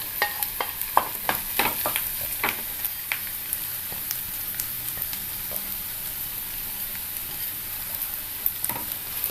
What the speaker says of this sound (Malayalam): ഇത് ചെറുതീയിൽ വെച്ച് തന്നെ ഒന്ന് വറുത്തെടുക്കാം